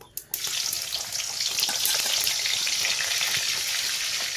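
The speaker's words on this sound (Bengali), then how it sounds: "পেঁয়াজগুলোকে ভেজে নিতে হবে বিরিয়ানির জন্য।" Onions sizzling in hot oil, fried for a village-style dum biryani: a steady, dense crackling hiss after a couple of brief clatters at the start, close and continuous with no talking.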